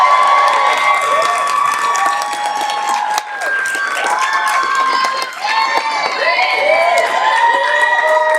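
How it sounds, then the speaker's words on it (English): A commencement ceremony crowd cheers and applauds for a graduate, loud sustained clapping mixed with whoops and high-pitched shouts throughout. "please give a very special round of applause for Shannon Moody."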